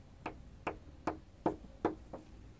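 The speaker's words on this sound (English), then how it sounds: "My Rocco, he's asking to come out. He knocks" A nearly 14-year-old deaf dog knocks its tail against a surface, giving about six dull, close knocks at a quick, slightly uneven pace, with no talking.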